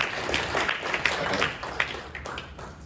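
An audience at a national assembly infrastructure forum on climate change and public safety applauds, brisk scattered claps running continuously and thinning slightly toward the end.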